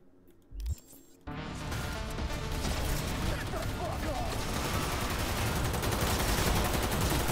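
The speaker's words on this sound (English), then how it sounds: "Light machine gun." Light machine gun in Cyberpunk 2077 fires in a long, dense sustained burst that opens with a sharp onset and holds loud and continuous for several seconds, with mechanical clatter and brief speech near the start.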